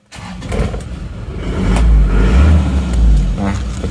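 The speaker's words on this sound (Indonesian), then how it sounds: "Oke, sekarang kita starter." A car engine cranks and catches during clutch repair work in a workshop, a deep rumbling start that swells and holds a loud, steady idle close by.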